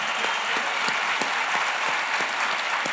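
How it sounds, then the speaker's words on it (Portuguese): An audience at a podcast taping applauds, a steady wash of clapping close by with a few sharper individual claps poking through, and no voices over it. "Palmas, galera."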